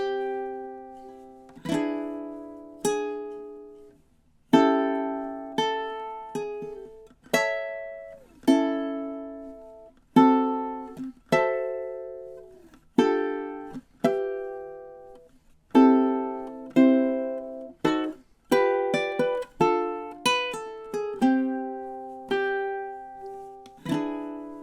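A solo ukulele plays a tune's first melody through twelve measures, bright plucked chords and single notes in the syncopated Roaring Twenties rhythm, each note decaying quickly, close and clear with brief pauses between phrases.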